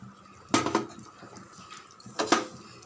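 Ground coconut paste goes into a simmering pot of chicken kurma with two sharp metallic clanks of a spoon against the vessel, set apart by a short gap, over quiet kitchen background noise.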